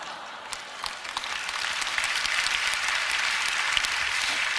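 Sustained applause from a church prayer-meeting congregation, a steady dense patter of many hands clapping at moderate distance, with no clear laughter standing out.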